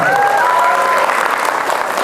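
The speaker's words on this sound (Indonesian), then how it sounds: "tepuk tangan dong buat komunikasi" Loud, dense applause from a seminar audience, a continuous wash of clapping with some crowd noise mixed in.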